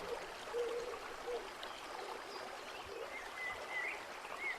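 A cascade of flowing water rushes in a steady, continuous broadband wash, even and unbroken throughout, with faint high chirps drifting over it.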